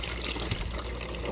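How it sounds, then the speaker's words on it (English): Water pours steadily into a homemade self-watering planter container, a continuous close splashing rush with no talk. "I'm gonna fill it up until I start seeing water come out of that pipe right there"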